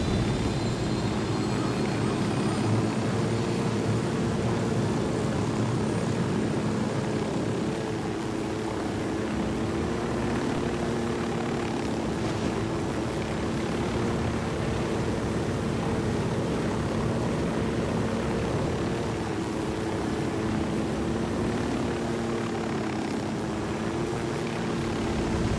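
Steady aircraft engine drone in the Ghost Recon Wildlands shooter, a continuous loud hum with a broad rushing roar that holds evenly throughout with no speech.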